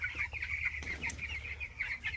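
Broiler chickens on a poultry farm, many birds clucking and chattering together in a steady, busy chorus over a low hum, close and continuous.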